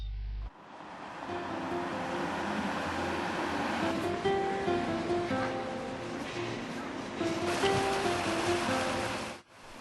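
Surf washing onto the long sandy beach at De Panne, a Belgian seaside resort near the French border, forms a steady roar that holds for the whole stretch, with faint tonal sounds drifting in under the wash.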